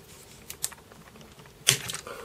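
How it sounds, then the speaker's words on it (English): Cutters snipping the end off a cable tie during work on a Commodore Amiga A500 keyboard, a few faint ticks and then one sharp close click with a brief rattle after it. "And we just need to cut the end off there."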